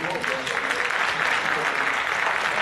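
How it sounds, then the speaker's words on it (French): Dense, steady applause from an audience at a French trading-platform presentation fills the whole stretch, loud and close with no pauses. "On a l'applaudissement bien entendu."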